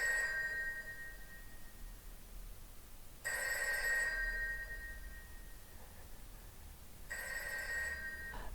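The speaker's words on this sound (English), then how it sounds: "The first one is this phone that's ringing." A telephone bell rings in a scene from Loki Season 2, sounding in two distinct bursts several seconds apart over a low background hum, with no voices.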